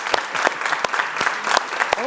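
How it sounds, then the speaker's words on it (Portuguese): A church congregation claps at a theology seminary class, a steady patter of many hands with a few sharper near claps standing out, running continuously through the moment with no one speaking over it. "Vamos aplaudir então aí."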